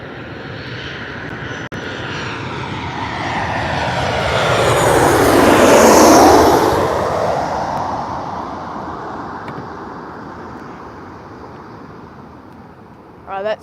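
A fixed-wing airplane landing in wind at Gold Coast airport on a wet morning grows from a distant engine roar to a loud close pass, then fades slowly away.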